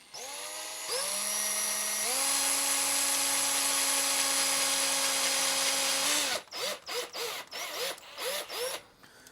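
A power drill bores a pilot hole while fitting Touratech handguards to a BMW motorcycle, its motor whining loud and steady for about five seconds with a pitch rise partway, then cutting into short repeated bursts.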